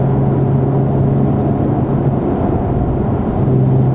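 Steady low engine drone from inside a Nissan 350Z with an Invidia Gemini exhaust, cruising at 60 mph in fifth gear around 2,600 RPM; a constant, loud hum with road rumble and no talking.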